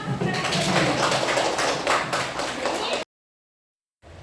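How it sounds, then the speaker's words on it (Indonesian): Classroom of students clapping together, a dense burst of applause lasting about three seconds, then cut off abruptly to silence before faint sound resumes. "Jadi beri aplaus dulu sama"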